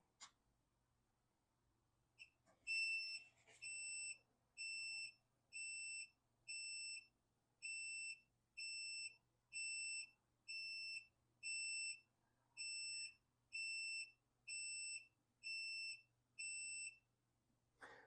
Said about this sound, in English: So it just beeped several times and then the display went to normal.